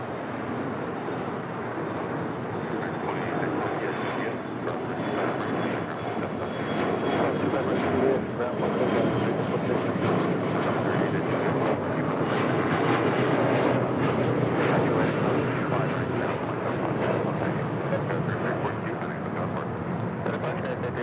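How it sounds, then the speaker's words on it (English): An Alaska SkyWest E175 airliner takes off from LAX, its engines roaring in a broad, steady rush that builds gradually and holds across the whole stretch, with a person's voice intermittently audible beneath it. "Taking off there, that was Alaska SkyWest, flight 3342, heading to SFO"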